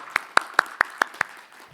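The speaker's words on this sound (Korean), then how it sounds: "큰 박수로 환영해 주시기 바랍니다" Six sharp, evenly spaced claps ring out in quick succession at a conference forum as a lecturer is welcomed, a thin, sparse applause rather than a full crowd.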